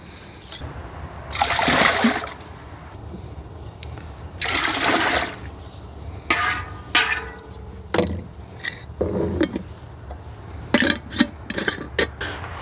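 Broth poured into a pot for smoked chicken and dumplings, heard as several splashing, gurgling liquid bursts close by, the longest pours early and shorter splashes and drips following, with no talk.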